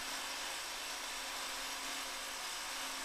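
An extra-large, long thin rock drill rotates and bores deep holes for explosives at a tunnel face underground, a loud, steady, unbroken grinding roar with a constant hum and no pauses.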